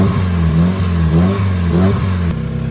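Mazda Miata engine held at a steady high rev by hand, a loud, continuous near drone with slight wavering pitch swells and a small dip near the end, no voices.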